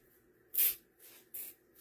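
A zip tie ratchets tight while a red poinsettia centerpiece is assembled, two short bursts of crisp zipping, the first louder and longer, the second briefer, against a quiet room.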